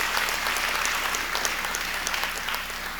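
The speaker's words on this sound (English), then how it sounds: "Please give him a round of applause." Audience at a matriculation convocation giving a round of applause, loud sustained clapping filling the hall without pause.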